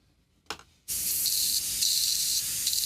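An airbrush being cleaned out, spraying to flush residual paint: after a brief puff, a loud, steady hiss of spray runs continuously to the end.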